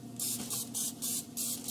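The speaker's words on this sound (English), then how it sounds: "I will put a little spray of the canola oil onto my bread just to give it a little something" Canola oil sprayed from a can onto bread: five short, soft hissing bursts in a steady rhythm, close and quiet.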